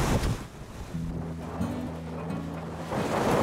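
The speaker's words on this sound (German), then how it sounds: "Zwischendurch hast du hier schon recht hohe Wellen." Waves wash and surge around a boat in high seas on the North Sea amid gusting wind, with a low engine-like drone running underneath.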